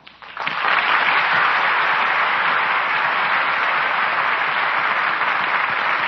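Radio theater audience applause at a curtain call for Gail Patrick after The Jazz Singer, swelling quickly into a loud, steady, thick ovation that holds for several seconds.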